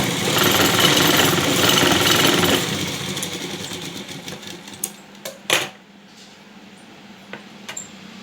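A sewing machine stitches a hook-and-eye strip onto a blouse, running steadily and loudly for a few seconds before stopping, followed by quieter handling clicks and taps.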